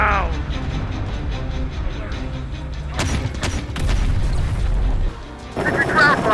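Gunfire from the ground in the game Terminator: Dark Fate - Defiance: booming shots and crackling bursts ring out, some heavy and distant, mixed with radio-style voice callouts and battle noise.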